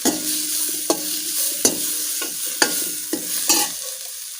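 Ginger garlic paste for beans palya sizzles loudly in a pan, with a spoon scraping and stirring in regular strokes about once a second, close up and without talk.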